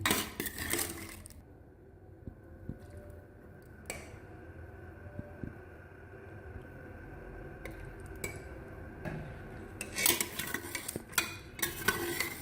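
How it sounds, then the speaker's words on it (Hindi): Tender beef pieces are sautéed in a cup of oil in a pot, with soft stirring scrapes, light sizzling and occasional metallic clinks of a spoon against the pan, all fairly quiet. "अब मैं इसको अच्छी तरह भूनती रहूँ 5-10 मिनट तक"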